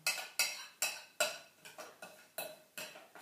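A spoon stirs raspberry cream mixed with chia seeds in a dish, making about eight light, evenly spaced clinks, quiet and close with nothing else heard.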